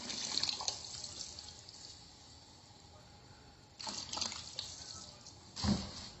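Water poured into tomatoes cooking in a pan, heard as a few soft splashing, trickling bursts over a quiet background hiss, with the last burst the fullest.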